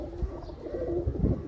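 A Sialkoti pigeon hen gives soft, low cooing, a couple of short throaty pulses close by, alone with no talking.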